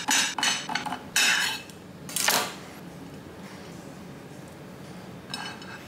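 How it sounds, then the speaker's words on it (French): A knife cuts thin slices of avocado against a plate or board, giving several short bright clinks and taps in quick bursts, then a quieter stretch and a final brief clatter. "on va se couper des petites tranches"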